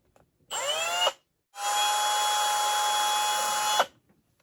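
A power drill with a countersink bit drills into wood twice, a short burst rising in pitch then a longer steady run, each stopping abruptly with near silence between.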